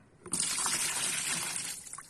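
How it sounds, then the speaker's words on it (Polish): Water splashes and pours onto shoes treated with waterproofing spray, a brief close burst of gushing liquid lasting under two seconds, with no talking. "mamy wodę, zalewamy wodą"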